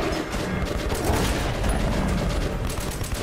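Gunfire in a video game's hardcore mode, a dense run of rapid shots and mechanical clatter that keeps going for a few seconds, loud and close.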